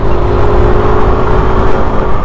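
A 2020 Yamaha NMAX scooter accelerates while being ridden, its engine droning loud and steady under heavy wind rush, with no talking.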